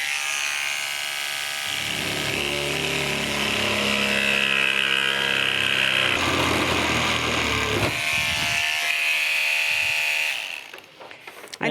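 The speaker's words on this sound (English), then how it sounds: "So now we're going to cut out our circle." A Proxxon power saw whines loudly and steadily, its pitch wavering as it cuts out a circle, then winds down abruptly near the end.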